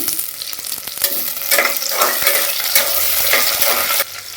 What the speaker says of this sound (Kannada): ಚೆನ್ನಾಗಿ ಸ್ವಲ್ಪ ಕಲರ್ ಚೇಂಜ್ ಆಗತಕ್ಕ ನಾವು ಈರುಳ್ಳಿನ ಚೆನ್ನಾಗಿ ಎಣ್ಣೆಗೆ ಬಾಡಿಸ್ಬೇಕಾಗ್ತದೆ